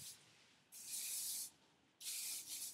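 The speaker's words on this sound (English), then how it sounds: "I'll take hairspray and I'll really get underneath here." Two bursts of hissing aerosol hairspray, each lasting under a second, close by with a short quiet pause between them.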